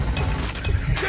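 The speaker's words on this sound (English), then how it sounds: "Changing mag!" A weapon magazine swap in Call of Duty Mobile gives a quick run of loud mechanical clicks and clacks, ratcheting metal sounds packed into about a second.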